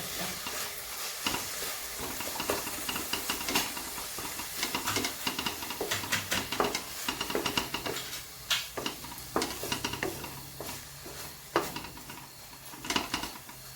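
Beetroot halwa is stirred in a pan, a spoon scraping and tapping steadily against the metal over a soft sizzle, close and continuous with irregular clicks throughout.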